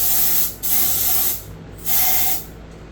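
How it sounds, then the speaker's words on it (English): Aerosol parts cleaner sprayed into a drilled pin hole in a HEMI crankshaft, heard as two loud, close hissing bursts of about half a second and one second, separated by a short pause. "You can use compressed air, I'm using parts cleaner."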